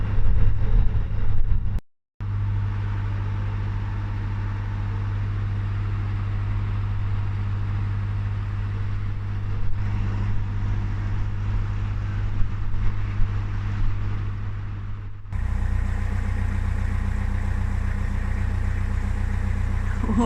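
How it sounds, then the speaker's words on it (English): A small yellow water taxi boat's engine chugs along a canal, a steady low drone that swells slightly as it passes close by, with a brief cut near the start and no talking. "this little yellow boat coming up is a taxi from the city centre to the docks."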